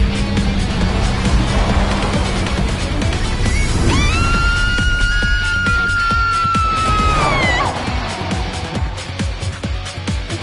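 Car engine revving hard while accelerating, a loud close roar with a rising then falling whine and tonal squeal, with shouting voices mixed in.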